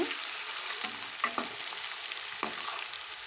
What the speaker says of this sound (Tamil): சிம்மில் வச்சு பொறிச்சு வச்சுக்கணும்